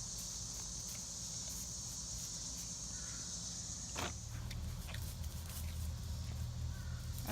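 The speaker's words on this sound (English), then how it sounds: "this young crow is so loud." Young crow calling loudly outdoors in a nature setting, a couple of sharp caws standing out over a steady insect drone and background hiss, fairly close, with no talking.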